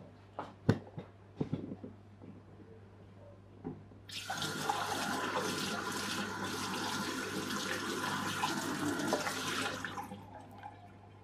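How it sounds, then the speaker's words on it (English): A tap runs cold water onto a hot item, a steady rushing splash lasting about six seconds after a few clicks and knocks at the start, moderately close. "I'll go and put that in cold water so we don't leave it laying around hot"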